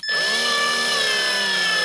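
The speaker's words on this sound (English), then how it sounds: "Get my little drill." A power drill driving a screw into wood whines steadily at close range, a continuous high motor tone with harmonic bands, running for nearly two seconds without stopping.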